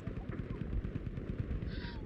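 Rapid automatic gunfire in the video game Battlefield V, a dense run of close, punchy shots rattling continuously for about two seconds.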